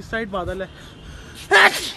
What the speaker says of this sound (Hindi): बड़ी कहर छींक मारता हूँ